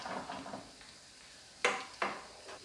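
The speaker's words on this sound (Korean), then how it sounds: "붙지 않게 이렇게 흔들어 주세요." A pan of frying Korean vegetable pancake with garlic chives is shaken on medium heat so the pancake won't stick. It gives two sharp metallic scrapes over a faint sizzle, close by, with no talk.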